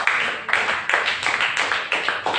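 Church congregation clapping together in quick rhythmic bursts, steady repeated claps filling the space at close range with no talk over them.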